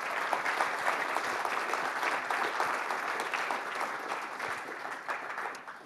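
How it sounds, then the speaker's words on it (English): Audience applause closing a programming conference session on cleaning messy sensor data, a steady, even wash of many hands clapping in a hall, somewhat distant and fading slightly toward the end. "So one more round of applause for Xavier."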